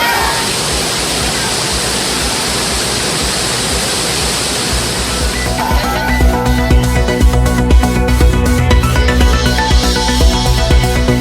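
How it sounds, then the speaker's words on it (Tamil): Thirparappu waterfall in Kanyakumari district rushes in a loud, steady roar of falling water, abruptly giving way partway through to a different, busier sound with pulsing tones. "கன்னியாகுமரி மாவட்டம் திருப்பரப்பு அருவியில் குறைந்த வெள்ளப்பெருக்கு."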